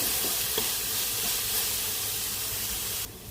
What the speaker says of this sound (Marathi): हिंग हळद गरम मसाला आणि मालवणी मसाला हे सर्व घालून घेऊया व्यवस्थित मसाले परतवून घेऊया